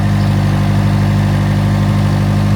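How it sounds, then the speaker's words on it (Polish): FSO Polonez car engine idling while warming up, a loud steady low rumble recorded close up, unbroken and even throughout. "Poczekajmy aż się ładnie silniczek nagrzeje i zobaczymy czy zrzuci z obrotów."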